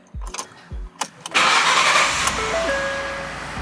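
A few sharp clicks, then a car engine cranks briefly and catches, settling into a steady, close idle that continues to the end.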